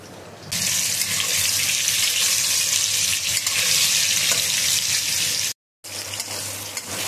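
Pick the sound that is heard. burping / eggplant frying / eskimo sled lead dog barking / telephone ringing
eggplant frying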